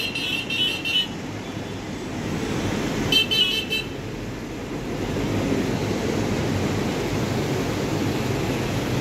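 Night traffic in Puri: cars pass in a steady roadway rumble with a couple of short horn toots, the surf-like hum of the street continuous and moderately loud.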